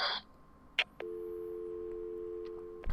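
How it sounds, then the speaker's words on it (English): A phone in Batman: Arkham City sounds from somewhere in the city: a steady electronic tone holds for about two seconds between short clicks, fairly quiet and alone. "There is a phone ringing somewhere in Arkham City"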